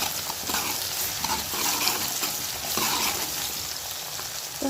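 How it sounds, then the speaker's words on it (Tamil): Sliced onion and garlic saute in oil in a pan while a village-style fish curry is being made, giving a steady, close sizzle with soft stirring scrapes and no voices. "பூண்டையும் சேர்த்து நல்லா வதக்கிக்கிடுவோம்"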